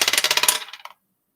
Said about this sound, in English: roll the other dice